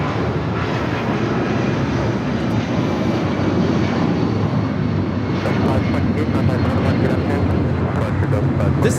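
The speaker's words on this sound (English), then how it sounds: "This is Delta Airlines 528 taking off to Atlanta on the 757-300." A Delta Air Lines Boeing 757-300 on its takeoff roll at Los Angeles airport gives a loud, steady broadband engine roar that holds throughout, with a voice talking over it.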